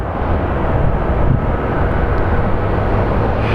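A fixed-wing airplane at Sky Harbor International Airport in Phoenix, its engines producing a loud, steady roar that holds evenly from start to finish with no talk over it.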